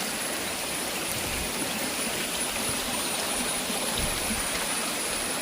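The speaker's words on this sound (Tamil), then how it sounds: "பாருங்கள் எப்படி தண்ணி போயிட்டுருக்கு" Mountain stream water on a 6200-foot Pothigai hill trek rushes steadily and continuously, a dense close wash of flowing water with no voices.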